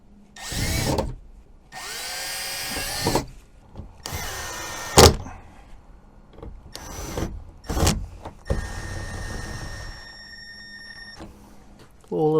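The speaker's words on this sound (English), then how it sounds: "Drill the other 2 holes." A power drill whirs in several short bursts up close, drilling holes on a pontoon boat, spinning up and stopping repeatedly, with a longer steady run near the end.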